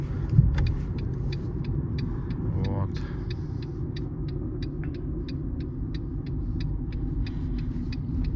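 A 2013 Fiat Linea with a naturally aspirated 1.4 engine idles with a steady low rumble, while a voice speaks briefly and a regular ticking sounds throughout.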